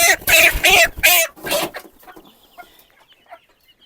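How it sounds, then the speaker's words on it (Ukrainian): A roughly month-old chicken in a village coop gives a few faint, soft clucks after a spell of nearby talking, then goes quiet. "Ось дивіться, це курочка."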